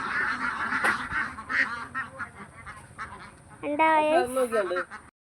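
Ducks quack in a noisy flock, close by, with a louder burst of honking calls near the end over general outdoor background, at Sarvanthapuram in Kadamakkudy, Kerala.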